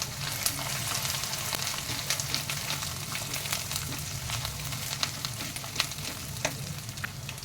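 Onions, ginger and garlic fry in a pan with chutney added, a steady close crackling sizzle with frequent sharp pops and spatters, heard alone without talk.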